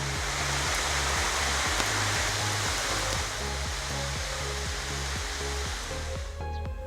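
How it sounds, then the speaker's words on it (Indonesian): Steady, dense rushing of rain falling among trees in Kamojang, Indonesia fills the whole stretch, constant and loud, with faint low knocking beneath it. "Disusul suara gemericik air hujan."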